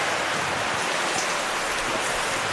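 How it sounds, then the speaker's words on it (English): Heavy rain pours down at a Darwin football ground during an NTFL Premier League match, a dense steady hiss of falling water filling the whole stretch with no voices over it. "Absolutely pouring down."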